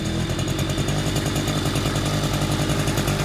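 A vehicle engine is revved in short bursts during a driving lesson's racing and closing throttle practice, a loud, close, rough rumbling drone that pulses steadily throughout with no talking over it.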